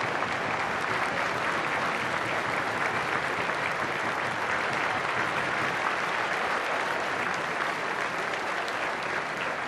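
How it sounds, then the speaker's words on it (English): Steady, loud applause from a large crowd at a Women's Six Nations rugby match between Wales and Italy, sustained without a break and filling the stadium before the anthems. "Please can you show your support in the period of applause."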